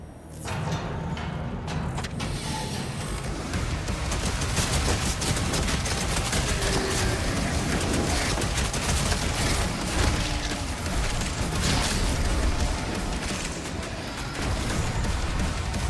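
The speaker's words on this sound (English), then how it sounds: "This is the Skull Dust Launcher." Skull Dust Launcher weapon in DOOM: The Dark Ages firing as a continuous, dense barrage, loud and sustained throughout with booming blasts layered together and no pauses.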